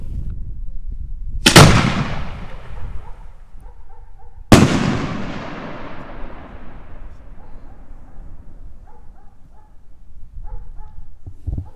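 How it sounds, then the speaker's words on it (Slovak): Two loud, sharp booms of a 75 mm aerial ball shell firework, Brocade Crown to Blue, exploding at a New Year's Eve display, each bang followed by a long fading crackle and rumble, with a dog barking faintly in the background. "teraz si ideme odpáliť guľovú bombu 75, Brocade Crown to Blue, takže modrá a brokátová"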